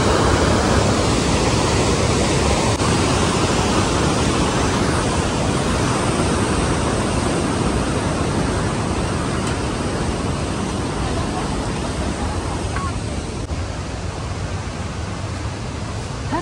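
A swollen river rushes in a constant, dense roar close by, loud and unbroken throughout, with no clear voices over it.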